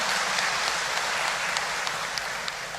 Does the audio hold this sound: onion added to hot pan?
no